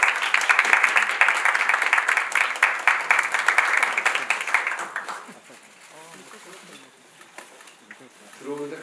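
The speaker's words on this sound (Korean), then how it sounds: "여러분 큰 박수로 환영해 주시기 바랍니다." Audience applause welcoming a guest at a climate-change event: dense, loud clapping for about five seconds, then fading into softer scattered claps and crowd murmur.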